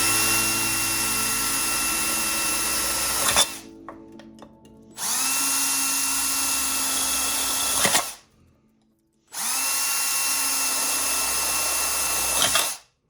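A power drill boring holes into an aluminum beer can whines loudly and close in three sustained bursts separated by brief pauses.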